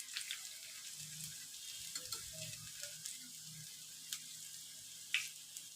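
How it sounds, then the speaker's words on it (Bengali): Puffed rice and onion fritters fry on low heat, a quiet, steady sizzle with occasional soft pops and light utensil taps. "এই দেখুন আমি হালকা আঁচে ভাজছি।"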